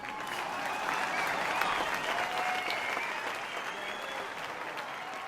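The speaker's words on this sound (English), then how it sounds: "So let's hear a round of applause for Mila." Steady crowd applause and cheering in NBA 2K23 during a Hall of Fame speech fills the whole stretch, dense and sustained without pause.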